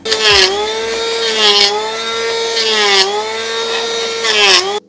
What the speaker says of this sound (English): Super effective, that planer.